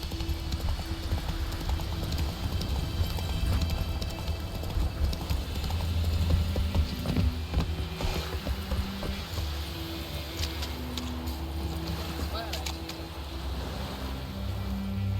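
A horse gallops in The Witcher 3, with steady, rapid hoof clip-clop close by that runs the whole time over a low game soundtrack and ambience.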